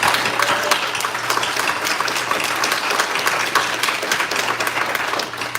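A convention audience applauds with sustained, dense clapping at steady loudness, a crowd cheering for an upcoming fantasy TV series, with no voices standing out.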